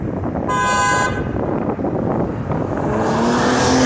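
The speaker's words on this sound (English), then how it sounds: "Look at this traffic." Busy street traffic on Fordham Road, with a car horn honking loudly for about half a second, then another horn sounding near the end over a steady roar of passing cars and engines.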